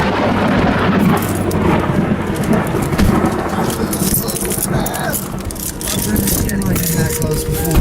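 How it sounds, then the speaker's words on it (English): Hail and heavy rain pelting a vehicle during a thunderstorm near a hail-wrapped tornado, a dense, continuous rattling clatter with rumbling undertones, loud and close throughout, with voices talking over it. "We got some hail."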